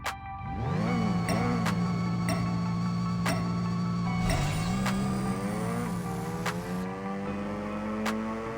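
A racing car in APEX Racer, fitted with a 20B rotary engine, R888R tires and N20 nitrous, makes a half-mile run. The engine drones loudly and climbs through several rising gear pulls, with sharp clicks between shifts.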